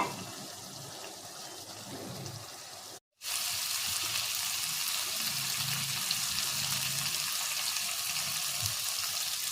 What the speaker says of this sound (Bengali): এবারে এইগুলোকে শুকিয়ে আরও ভাজতে হবে।